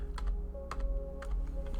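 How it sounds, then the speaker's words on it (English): Typing on a computer keyboard: three short bursts of key clicks spaced about half a second apart, close and clear over a steady electrical hum. "That way you guys can see what I'm typing in there."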